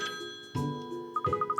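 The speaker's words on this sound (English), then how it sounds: "Oh, the phone." A phone rings in the video game Layton's Mystery Journey, a bright chiming jingle with soft melodic tones leading into a quick run of repeated electronic ring pulses.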